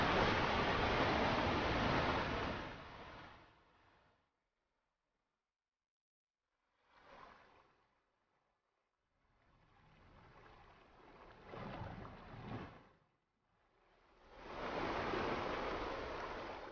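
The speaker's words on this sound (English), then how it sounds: "the rivers are swelling and the water thunders towards the sea." Rushing water of a swollen river in Scotland roars loudly, cuts out for a few seconds, then returns in surging bursts before swelling back to a full, steady rush.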